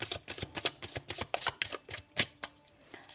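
Tarot cards riffled and shuffled by hand, a rapid run of crisp papery flutters and taps in uneven bursts, close and alone with no talk.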